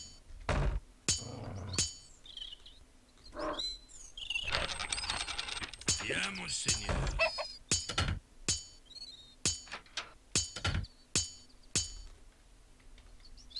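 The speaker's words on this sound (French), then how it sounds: "Allez, un petit coup de marteau." Sharp metallic clinks and taps ring out in irregular bursts during building in a video game, some quick clusters and some spaced strikes, over a faint steady hum.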